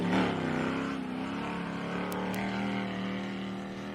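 An Ultra4 off-road race car pulls away with a loud, rough engine roar that peaks at the start and then holds and slowly fades as it moves off, with no voices over it.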